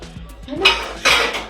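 Pots and dishes are handled in a home kitchen while tea is put on: a soft knock, then two bright metallic clatters of utensils against cookware, close by, each ringing briefly.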